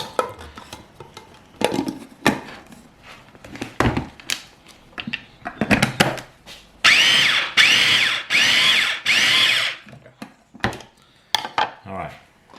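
A food processor pulses chicken liver pâté in short, uneven bursts of whirring and clattering, with a longer sustained run in the middle. Faint clinks and handling noises sit between the pulses.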